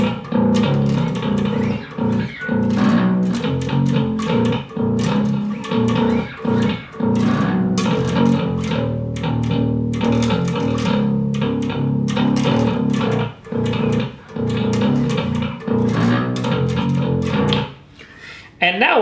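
An electric guitar on its bridge pickup, run through a Darkglass Ultra distortion plugin, plays continuous loud, crunchy distorted riffs with fast palm-muted chugs and accented chords for about twenty seconds.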